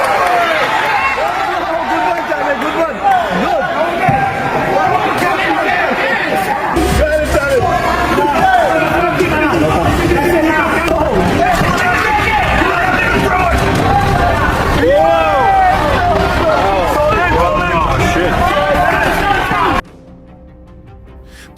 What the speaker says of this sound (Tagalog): patuloy ang sigawan ng Australian fans